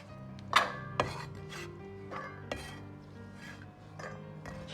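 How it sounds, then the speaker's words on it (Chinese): Knife chopping soaked green beans into short pieces on a wooden board, a few sharp, irregularly spaced cuts standing out close and clear over quiet background hum. "然后把浸泡过的豆角清洗干净，控干水分，改刀切成小段"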